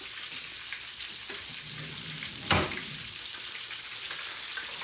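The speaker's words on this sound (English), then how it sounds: "It's frying up pretty good." Double-coated chicken fried steak sizzles in a pan with a steady, bright crackling hiss, close and alone, broken by one short louder burst of spitting.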